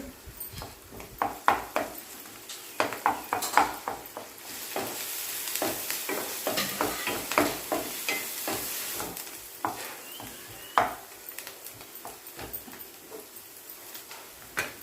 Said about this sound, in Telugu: ఇప్పుడు అల్లం వెల్లుల్లి పేస్ట్ కూడా వేసి కలపాలి